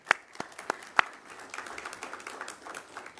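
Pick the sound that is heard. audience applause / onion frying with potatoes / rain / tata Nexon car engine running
audience applause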